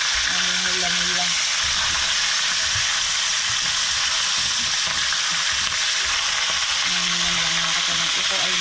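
A caught fish fries in a pan over an outdoor fire, giving a constant close sizzle and spitting hiss, while someone talks briefly near the start and end.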